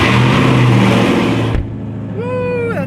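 A car's engine revs loud and close, roaring steadily before cutting off abruptly, after which a quieter idle and a rising whine remain.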